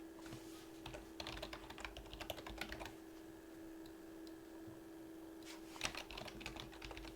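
Quiet typing on a computer keyboard in bursts of rapid clicks, pausing midway and then resuming briefly, over a faint steady hum, with no talk.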